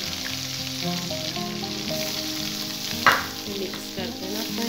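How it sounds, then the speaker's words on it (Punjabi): Grated carrots frying in ghee for gajar halwa, with a steady sizzle, stirring scrapes and one sharp clatter midway; music plays throughout and no one speaks. "ਹੁਣ ਆਪਾਂ ਇਹਦੇ ਵਿੱਚ ਗਾਜਰਾਂ ਪਾਉਂਦੇ ਹਾਂ"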